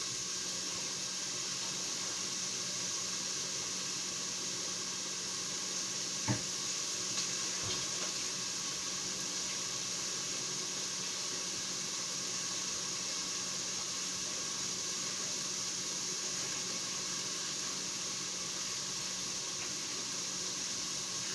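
Chicken pieces browning in a pan for a chicken mushroom carbonara, a steady soft sizzle and crackle running evenly throughout, with one brief clink partway.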